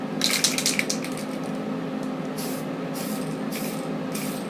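Short hissing bursts of aerosol spray paint laid as one light coat over a plastic model, several brief puffs of broadband hiss at close range with no talking.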